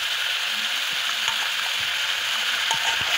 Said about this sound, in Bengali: আবারও ভালো করে নাড়িয়ে চাড়িয়ে নিচ্ছে